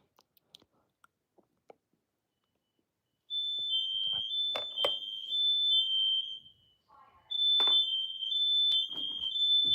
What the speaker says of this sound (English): I think my tenants triggered the fire alarm.